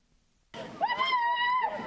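A crowd greets prisoners freed in a wave of releases with shrill cries of joy and wailing, one high voice ringing above a dense, loud mass of shouting that starts abruptly and keeps going.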